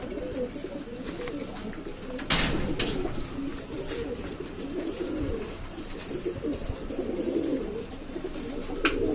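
Pet pigeons coo steadily at close range in a loft with clipped-wing birds and squabs. Low, soft cooing runs continuously with a few brief scuffles, and no one talks.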